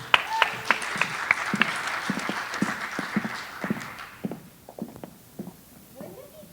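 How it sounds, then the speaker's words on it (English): An audience applauds a speaker at a talk, with sparse individual claps that thin out and fade to scattered, faint claps near the end. "Let's give a round of applause to Noa."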